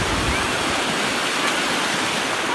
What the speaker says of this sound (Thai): คลื่นนี่น่าเล่นกระดานโต้คลื่น